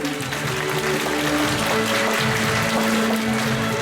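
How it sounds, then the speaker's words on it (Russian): Audience applause at a city library's 100th anniversary celebration in a hall, a steady dense wash of clapping from a large crowd filling the whole stretch, with faint tonal hum beneath. "Поддержим аплодисментами"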